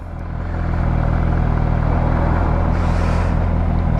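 MV Agusta Brutale 1000 RS, a 2022 motorcycle, idling in neutral as the clutch is released, giving a steady close engine rumble with a pulsing low beat that swells in the first half second and then holds even.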